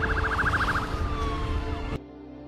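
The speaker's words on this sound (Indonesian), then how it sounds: "Jack curiga dengan beberapa ambulan yang sedang menuju rumah sakit Memorial tempat Presiden dirawat" Ambulance sirens heading toward a hospital wail in a film scene, a rapid warbling tone shifting into a falling sweep before cutting off abruptly.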